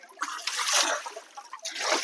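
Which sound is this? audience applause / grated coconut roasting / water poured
water poured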